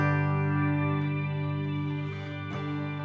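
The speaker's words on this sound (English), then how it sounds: "that's like more of a swirly octave kind of reverb" Sustained guitar tone through an Electro-Harmonix Oceans Abyss dual stereo reverb pedal, a swirly octave-shimmer wash with layered harmonics that hangs and slowly fades, heard alone.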